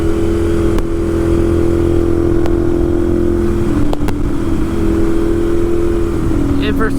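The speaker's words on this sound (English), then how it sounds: "Listen to that V-twin motor." A loud 2012 Ducati 796 Monster V-twin motorcycle engine idles and revs steadily with a deep, throbbing drone, close by, with a few sharp clicks along the way.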